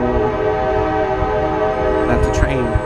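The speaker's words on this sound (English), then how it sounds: "that's a train." A train passing near an Atlanta balcony in the morning, a loud, steady rumble of rail cars with a brief burst of horn-like tones near the end.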